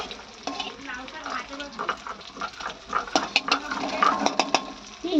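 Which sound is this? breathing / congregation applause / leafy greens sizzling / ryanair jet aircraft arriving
leafy greens sizzling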